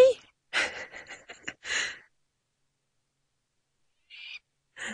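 Short harsh bird cries in a quick burst, then silence, then a couple more calls; loud and close, sounding like agitated alarm calls.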